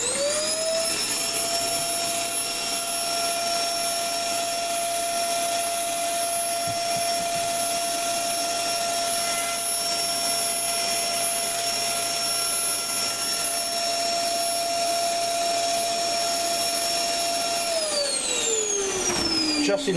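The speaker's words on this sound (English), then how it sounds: "So what I'm going to do is kind of vacuum that off again." A vacuum cleaner runs steadily and loudly with a high whine while cleaning out the ice maker compartment of a Frigidaire refrigerator, its pitch dropping as it powers down near the end.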